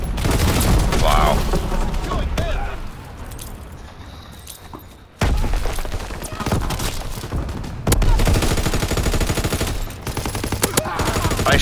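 Rapid gunfire in Call of Duty: WWII, with bursts of automatic shots and clattering weapon handling that drop to a quieter gap before loud firing resumes, and players talking over it.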